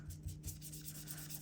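Ink being rubbed onto a paper planner page in short little strokes, a soft close scratchy rubbing repeating in quick passes with no talk.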